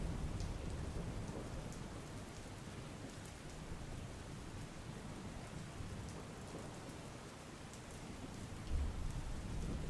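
Heavy, unbroken rain pours down in Samarda village, Mangrol, Junagadh, during flooding. It makes a dense, steady roar across the whole stretch, and a few faint rumbles of thunder lie beneath it.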